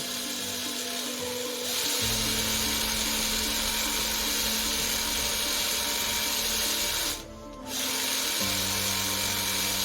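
A power drill whines steadily at close range, drilling holes in a .22 calibre air-rifle pellet magazine, its pitch dropping as it bites and rising again, with a brief pause near the end before it resumes.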